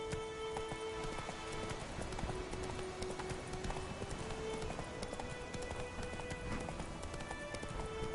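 Roach the horse gallops in The Witcher 3, with steady, rhythmic clip-clop hoofbeats running throughout at moderate volume over a faint tonal background.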